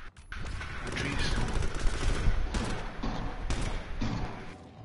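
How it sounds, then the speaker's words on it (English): Gunfire in the H1Z1 battle royale game, a few sharp reports and thuds at moderate distance amid a busy game mix. "Somebody's sniping from over there"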